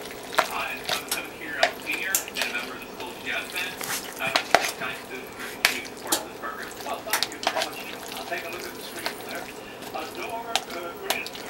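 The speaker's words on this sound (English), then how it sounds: "Then you take your bowl, you mix it up." A bowl of tuna being mixed by hand, with scattered clinks and scrapes of a utensil against the bowl, irregular and close, over a faint running-water background.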